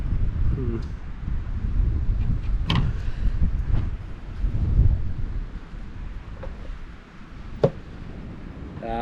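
Steady wind blusters across a microphone outdoors on a fishing and camping trip at an Australian coastal spot with choppy water, making a continuous low rumbling roar with gusty swells and a few faint knocks.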